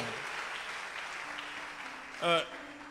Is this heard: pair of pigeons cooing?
no